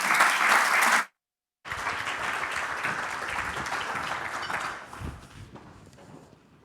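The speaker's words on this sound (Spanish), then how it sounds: "Les pido un aplauso para ella." An audience at a talk on social impact bursts into dense applause, cuts off briefly, then claps steadily for several seconds before fading out, loud and spread across the room.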